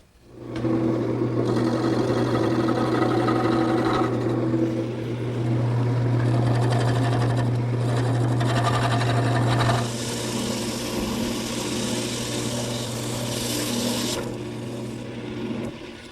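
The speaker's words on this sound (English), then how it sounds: "that takes care of turning the dowel" A wood lathe turning a wooden dowel, a steady loud motor hum with a strong tonal drone and bursts of hissing, scraping cutting noise as the tool bites, no speech.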